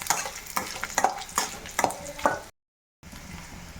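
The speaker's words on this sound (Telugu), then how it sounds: "ఎండుమిర్చి కూడా మంచి స్మెల్ వచ్చేంత వరకు వేయించుకోవాలి." Dried red chillies frying in a pan for a sesame chilli pickle, with a steady sizzle and repeated sharp scraping stirs roughly every half second, close and clear, then a brief cut of silence before the sizzling resumes.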